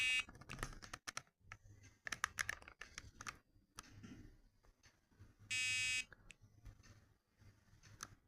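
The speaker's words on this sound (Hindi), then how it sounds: "ऑन होने के अकॉर्डिंग बजर भी बज रहा है" A buzzer on a micro:bit temperature and humidity monitor sounds once when the temperature passes 25 degrees, a short, piercing half-second burst among scattered light clicks and taps.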